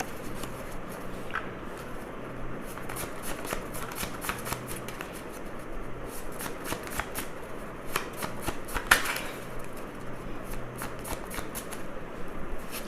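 Handwritten tarot cards are shuffled continuously up close, a dense stream of papery flicks and soft slaps with a sharper riffle partway through.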